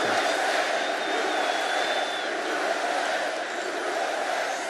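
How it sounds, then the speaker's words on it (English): Large crowd at a Donald Trump rally in Allentown, Pennsylvania, roaring and cheering in a dense, steady wash of noise throughout, with a whistle cutting through near the start. "What a crowd this is."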